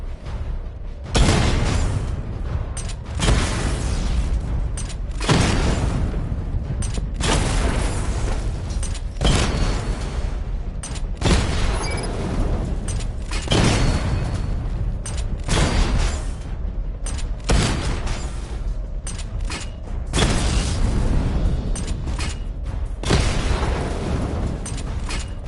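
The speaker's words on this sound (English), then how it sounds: "Charge the missile barrage to level 2 to destroy up to 4 targets at once." Missile barrage explosions in a video game: a long run of loud, booming blasts, about a dozen spaced heavy bursts each trailing off, close and dominant with no talk.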